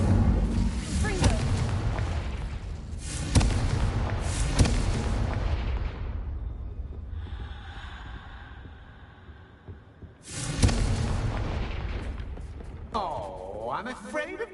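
Confringo and Incendio spell blasts crack and boom in Hogwarts Legacy, heavy bursts arriving one after another, then a quieter stretch of rumble before more blasts hit, with a voice talking throughout.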